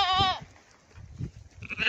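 A mixed herd of goats and sheep in a remote hillside pasture gives a single clear bleat at the start, followed by soft shuffling and low livestock noises and another faint bleat near the end.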